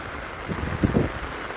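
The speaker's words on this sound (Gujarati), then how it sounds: "હજી વરસાદ ચાલુ છે" Rain falls steadily on a campsite, a soft continuous patter with a few heavier drops, fairly quiet and with no voices.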